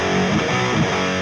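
An electric guitar played through a distortion pedal into an Orange Supercrush amp sim, the GrooveFX Carrot, holds a loud, thick, saturated sustained chord that rings continuously.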